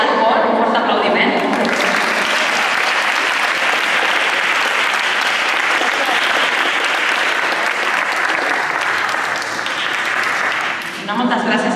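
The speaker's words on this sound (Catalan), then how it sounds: "Un fort aplaudiment." An audience at an annual gospel choir concert bursts into long, loud applause, a thick continuous roar of clapping that starts after a brief voice, holds steady and fades near the end.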